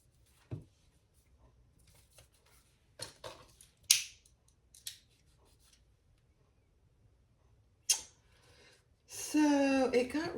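Scissors trim the edges of a cork fabric wallet with a handful of sharp, isolated snips spaced seconds apart in a quiet room, ending in a brief louder rustle.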